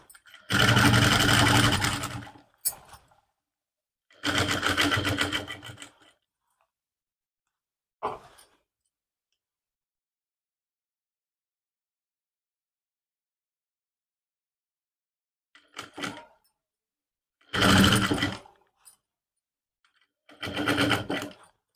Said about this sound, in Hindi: अब इसके ऊपर से हम लगाएंगे कच्ची सिलाई मोटे बखिए से